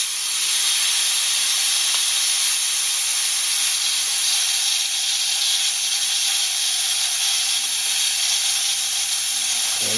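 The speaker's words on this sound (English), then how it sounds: "doing this is going to release a lot of steam." Loud, continuous hiss of steam venting from a T-fal Clipso stainless steel pressure cooker during pressure release, steady and close throughout with no talking.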